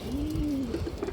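A single old-breed pigeon gives one short, low coo that wavers in pitch, close and clear in a quiet setting.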